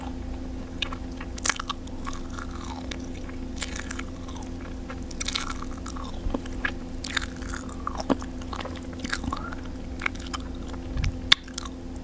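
A Korean choco pie is bitten and chewed close to the mic, with repeated soft crunchy bites and moist chewing over about twelve seconds and no talking.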